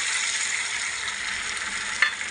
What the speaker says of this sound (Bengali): এখন ভালো করে এটা একটু কষিয়ে নেব